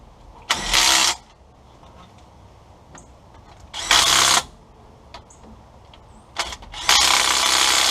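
Power ratchet driving bolts home on a T90 transmission: three separate bursts of whirring, rattling tool noise, each lasting under a second to over a second, close up with quiet pauses between.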